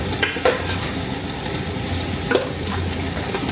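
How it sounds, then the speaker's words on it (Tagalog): Chicken sautéing with tomato, onion and ginger for chicken sinigang, giving a continuous crackling sizzle with a couple of clinking stirs in the pan and no talking. "nilagyan na natin itong ating chicken para masangkot siya"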